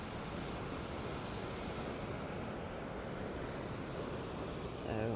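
Sea waves wash against the shore beneath a walkway reaching out over the water, a constant loud surf roar mixed with wind buffeting on the microphone, steady throughout with a slight surge at the end.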